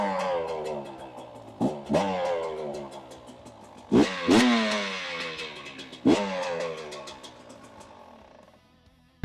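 A carbureted TX300 two-stroke dirt bike engine fires up and revs repeatedly, with sharp throttle blips around a crisp, buzzing idle, close and loud, then cuts off near the end.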